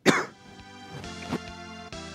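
A person coughs and clears their throat with a sharp, loud burst at the start, followed by rougher, weaker hacks, close to the mic over faint background game music.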